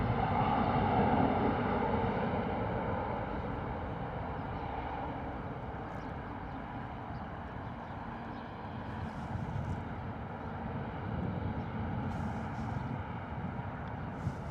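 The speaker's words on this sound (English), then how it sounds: "TUI 737 heading out." A TUI Boeing 737 departing Bristol Airport, heard as a continuous low jet rumble that is strongest at first and then eases slightly while staying steady, with no one speaking.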